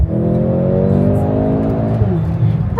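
A Mercedes car engine holds a steady, loud rev close by, its tone rising slightly before dropping at the end, with faint background voices.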